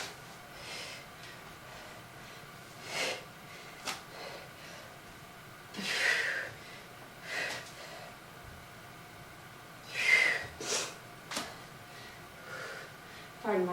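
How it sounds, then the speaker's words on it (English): Someone sniffles repeatedly during a kettlebell workout, short nasal snorts and breaths spaced irregularly and fairly close, with quiet background between them. "Pardon my sniffling."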